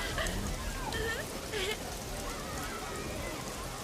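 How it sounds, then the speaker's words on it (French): Steady rain falls over the town of Fadan, ending a drought, as a continuous soft hiss with scattered drops, mixed with faint voices and other sounds in the background. "c'est la pluie qui tombe sur Fadan et qui met fin à la sécheresse"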